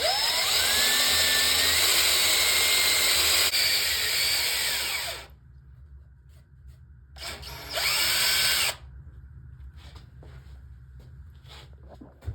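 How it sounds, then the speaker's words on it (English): A handheld power drill bores through the top of a solid electric guitar body for a grounding wire, a loud whining run of several seconds, a short second burst, then quiet handling noise. "I'm going to drill right through the top and come all the way through"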